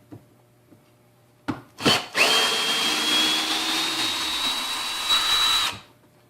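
A Hart drill driver backs a screw out of wood, a few short clicks and bursts leading into a sustained whirring grind of about three and a half seconds that stops abruptly, close and alone.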